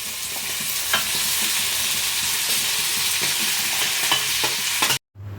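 Peas and cooked rice being stir-fried in a pan over a medium gas flame give a loud, steady sizzle with repeated scraping stirs, cutting off abruptly near the end to a low hum.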